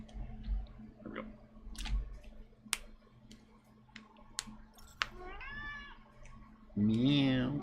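A cat meows several times at moderate loudness, ending in a long drawn-out call, with scattered clicks and small handling noises between.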